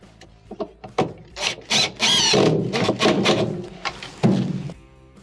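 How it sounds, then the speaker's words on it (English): A power drill driving a screw into a Frigidaire washer during a drive belt repair, close and loud, with a burst of whirring and rattling mixed with knocks and scraping of the screw and metal panel. "Tighten it with your drill."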